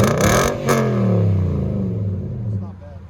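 A 2019 Nissan Titan 5.6L V8 with a STILLEN fiberglass-packed cat-back exhaust revs up and then falls off in a descending drone, heard close and fairly loud over a few seconds.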